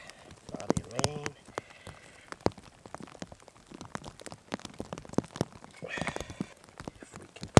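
Rain falls on an outdoor campfire site, scattered drops striking surfaces as irregular sharp taps throughout, close by, with brief voice-like sounds at moments.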